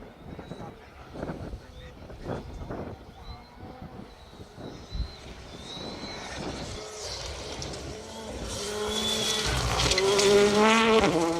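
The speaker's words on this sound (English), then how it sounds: "Jeff Phelps, Colin Jenkins, beautiful Mark II Escort." A Mark II Escort rally car runs a forest stage in the Welsh Rally Championship, its engine note rising from a distant drone to a loud, close rasp as it approaches and passes.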